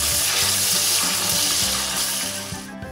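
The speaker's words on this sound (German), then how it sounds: "Das Ganze sauber andünsten." Tomato paste sautés in a pan with a steady, close sizzle and some clinking from a utensil that stirs it, with no voices.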